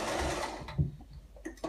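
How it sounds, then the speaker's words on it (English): Short burst of sewing machine stitching along a fabric edge, a muffled low whir that fades after about half a second, followed by faint clicks. "So just hold down the reverse stitch to start off, and then sew along the edge."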